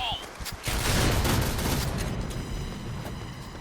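Rapid gunfire crackles in the online shooter game Point Blank with a K-2 rifle, a dense burst of shots and explosions while a player talks over it.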